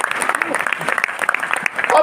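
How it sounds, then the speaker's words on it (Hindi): An audience at a Hindi motivational seminar gives a round of applause: dense, steady clapping fills the whole short stretch, with a speaker's voice faintly over it. "एक जोरदार तालियां इन लोगों के लिए"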